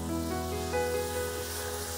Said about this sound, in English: You can hear it sort of sizzling away.